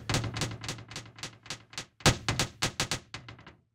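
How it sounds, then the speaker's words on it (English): Keys on a QWERTY computer keyboard are pressed repeatedly, giving a quick series of close, faint, crisp taps with short pauses between them. "I'll use my down arrow on my QWERTY keyboard to move on to the next."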